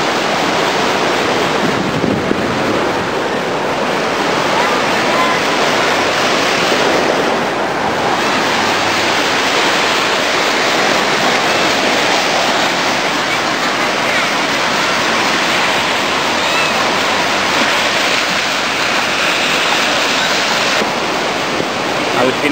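Surf waves breaking at Leblon beach in Rio de Janeiro, a steady loud roar of rolling water and wash that continues without a break, with wind buffeting the microphone and no voices.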